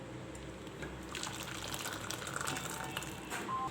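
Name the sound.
moong dal payasam being poured into a vessel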